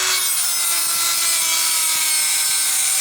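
An Allen wrench is cut down into a short specialty wrench while installing a propeller on an RV-12 aircraft, giving a loud, continuous abrasive sawing and rasping with regular strokes.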